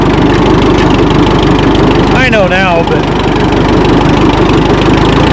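An Oliver 770 tractor engine runs loud and steady at close range, a continuous low rumble throughout, with someone speaking briefly over it.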